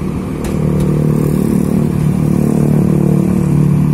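Nopin 88 bus with a Mercedes-Benz OH1521 engine, a loud close diesel rumble that builds in the first half second and then holds a steady rough idle-to-rev drone, no talking.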